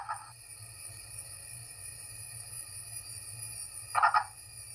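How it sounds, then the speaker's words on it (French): A purple frog, a recently discovered species, gives a short croak at the start and another burst near the end, faint and close against a steady background hum of insects. "Voilà pour la grenouille violette."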